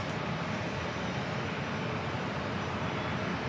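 A Delta airliner with no winglets takes off from San Diego airport on runway 27, a steady broad roar of jet engines that stays loud and even throughout, with no talking.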